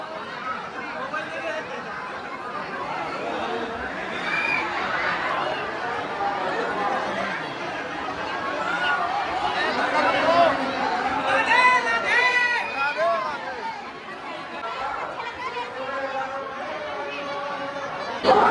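Dense crowd of pilgrims packed into a temple, a steady loud hubbub of overlapping chatter and shuffling with no single voice standing out, swelling slightly midway.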